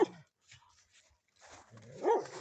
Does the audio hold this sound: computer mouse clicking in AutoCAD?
no